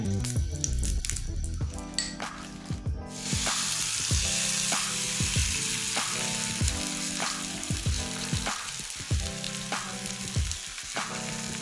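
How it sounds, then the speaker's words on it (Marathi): Oil sizzling hard in a hot pan while methi thepla cook, a loud continuous fry broken by repeated sharp bursts and soft flipping knocks, with no voices. "बघा आपला पॅन पण व्यवस्थित गरम झाला आहे. त्यामध्ये आपण थोडंसं तेल घालूया."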